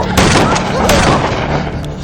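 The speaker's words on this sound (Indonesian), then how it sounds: "Hingga akhirnya Jaden dan Hailey pun langsung ditembak." Loud, dense gunfire from a film scene, sustained booming blasts with sharp repeated reports layered together throughout the short stretch.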